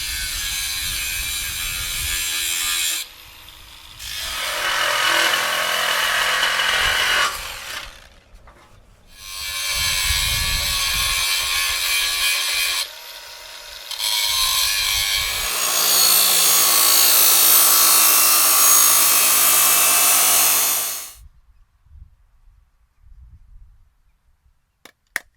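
An exhaust pipe is cut during a Flowmaster Super HP2 muffler install on a 2022 Ford F-150 5.0, a loud, close, rasping cut that runs in long bursts broken by short pauses, then stops abruptly.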